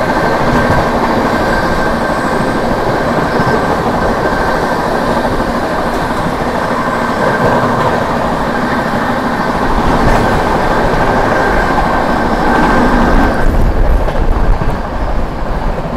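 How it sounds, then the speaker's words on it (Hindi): Loud, continuous train noise from close alongside as the Prayagraj–New Delhi Humsafar Express overtakes the Vaishali Express on a parallel track, a steady rushing rumble with rail clatter lasting throughout, no voices. "पैरेलली ओवरटेक कर रहे हैं वैशाली एक्सप्रेस को।"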